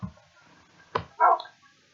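A dog at home lets out a short, close bark followed by a brief whimpering yelp, then falls quiet.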